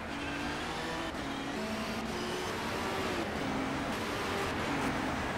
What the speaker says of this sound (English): Wow, you got those LMP2s still going at it.